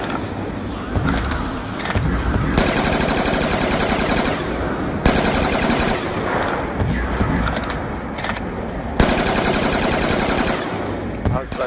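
Black Ops 2 Zombies gameplay with rapid automatic gunfire bursting repeatedly over a dense, loud game mix of effects, continuing almost throughout with brief pauses between volleys.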